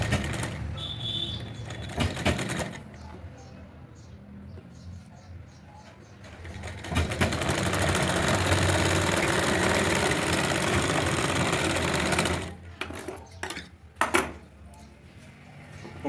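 A sewing machine stitches the sleeve cuff of a girl's frock made from an old sari, running in steady whirring bursts with a long continuous stretch in the middle and shorter runs with clicks around it.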